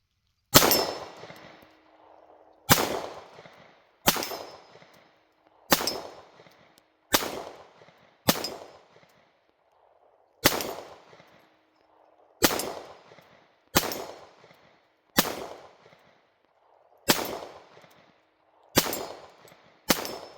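A Springfield XD Mod 2 .45 ACP handgun firing Blazer 230 grain full metal jacket rounds outdoors, about a dozen sharp, loud single shots at irregular intervals of one to two seconds, each with a short ringing decay, no talking.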